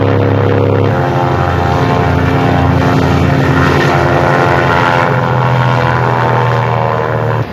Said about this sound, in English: in their place fly the IL-76s, the AN-32s, the Mi-26s, Jaguars, Mirages and the MiGs.